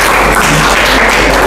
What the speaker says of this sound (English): Give applause for society.